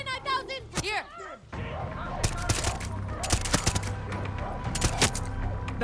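Rapid bursts of automatic gunfire in Far Cry 6 crackle steadily over a busy game soundscape, following a stretch of chirpy electronic tones at the start.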